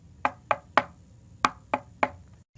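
Six sharp knocks on a door, loud and close, in an uneven rhythm of three quick raps, a pause, then three more, with no voices.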